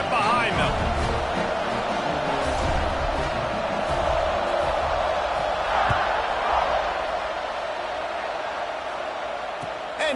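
Broad stadium crowd roar from the College Football 26 video game during a kickoff, a steady dense wash of cheering filling the whole stretch beneath a play-by-play commentator's voice.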